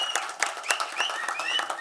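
Crowd at the Tamil film audio launch of 'Kaakka' applauds, a bright steady patter of many hands with sharp whistles rising over it, sustained and moderately loud.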